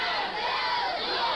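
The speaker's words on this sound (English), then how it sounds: "Huge crowds gather to cheer on the bearers of portable shrines and dance through the narrow streets, shouting out chants" A huge crowd at a Tokyo festival shouts and chants while cheering on bearers of portable shrines through narrow streets, a dense, continuous roar of many voices.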